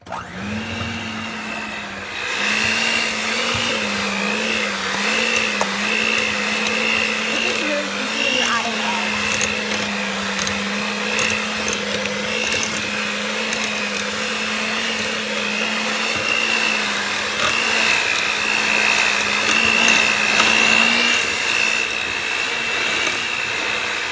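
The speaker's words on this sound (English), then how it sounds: "So here goes some more blending." Eggs being mixed into cookie batter with an electric mixer, its steady whirring motor droning loud and continuous throughout, with a voice talking over it.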